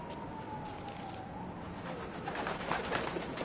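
Pigeon cooing in the game Spider-Man: Miles Morales, a soft, faint bird call against a quiet city background with a distant siren-like tone.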